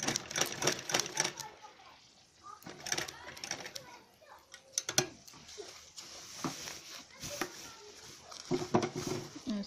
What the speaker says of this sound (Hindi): बिल्कुल सीधी सिलाई लगानी है